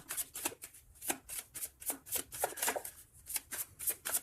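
Tarot cards shuffled by hand for a reading, close and crisp, with quick repeated riffling flutters in an uneven rhythm.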